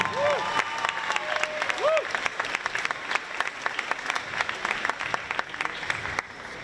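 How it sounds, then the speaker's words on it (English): A crowd in a school gym claps steadily for several seconds at a girls' volleyball match, with a couple of rising whistles or whoops early on. "if you could just hang on with the applause"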